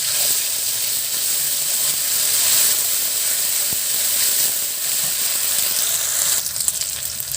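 Cumin paste hits hot oil in a pan, setting off a bright, continuous sizzle and hiss close up, with a few faint clinks from stirring toward the end.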